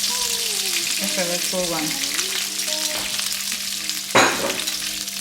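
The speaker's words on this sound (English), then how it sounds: "I'm adding my margarine, a little bit of olive oil." Margarine and a little olive oil sizzle steadily in a pan for a pasta with veggies and fish, a continuous close hiss under a short spoken phrase, with a sharp utensil clatter near the end.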